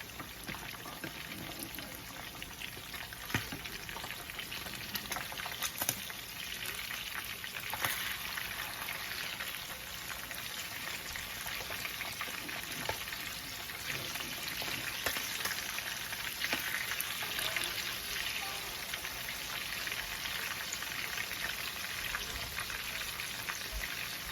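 Fish fillets frying in a hot pan of oil, a steady close sizzle with crackling pops and occasional spatters holding at an even level throughout, with no voices.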